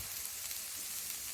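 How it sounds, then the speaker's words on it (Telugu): Tempering of dried red chillies sizzles in hot oil for a beetroot fry, giving a dense, continuous crackling hiss that stays even and close throughout, with no talking. "తాలింపు వేసుకొని ఎక్కువ ఎండుమిరపకాయలు వేసుకొని ఇప్పుడు ఇది కూడా వేస్తాను"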